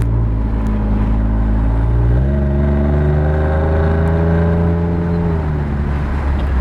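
A Ford F-150 Raptor with a 3-inch stainless aFe Rebel cat-back dual side-exit exhaust cruises at about 1,500 RPM with the windows down. It gives a loud, steady low drone that shifts pitch slightly as the truck changes speed.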